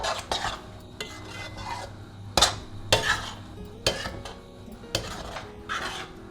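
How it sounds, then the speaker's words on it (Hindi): Tomatoes sauté in a pan over a high flame, with a spoon scraping and clanking against the pan in about eight irregular strokes under a soft sizzle. The sound is close and clear, with no voices. "अब टमाटर डालने के बाद हम तेज़ आंच में 2-3 मिनट भूनेंगे"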